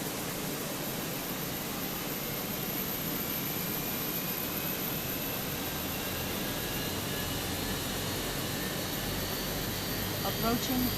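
Airbus A320 jet engines spooling up in Microsoft Flight Simulator 2024 (Fenix A320), a steady broadband roar with a faint rising whine building over the whole stretch, continuous and even in loudness.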